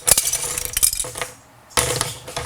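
Plastic Lego pieces clattering and scattering as they are thrown, a burst of bright clicks and rattles up close, a brief lull, then another clattering spill.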